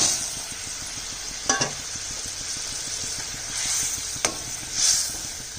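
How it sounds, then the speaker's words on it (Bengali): Fried fish pieces go into a boiling fish curry with black cumin paste, which keeps simmering with a steady soft sizzle and bubbling, broken by a couple of brief clinks or splashes near the start and middle. "ঝোলটা ফুটে গেছে, মাছ ভাজাটা দিয়ে দিচ্ছি।"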